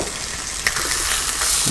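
Chicken frying in a pan with butter, giving a close, steady, dense sizzle with a small clack partway through, no voices.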